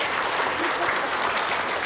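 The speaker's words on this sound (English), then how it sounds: "let's give her some applause" An audience at a school Battle of the Books competition applauds Ms. Blair with dense, steady clapping that fills the room evenly for the whole stretch.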